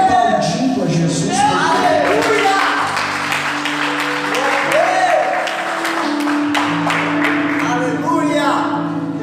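A church congregation claps for Jesus, a dense, steady wash of applause lasting throughout, layered over sustained keyboard or organ tones and some voices.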